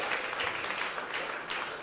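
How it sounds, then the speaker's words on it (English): A comedy club audience claps in a dense, steady burst of applause that fills the room for a couple of seconds. "Can you hold your applause until the end?"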